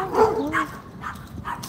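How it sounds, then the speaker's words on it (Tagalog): Dogs bark and yip in short, agitated bursts, several spaced outbursts over a couple of seconds at moderate distance, with a thin whining edge between them. "Bakit galit ang mga aso?"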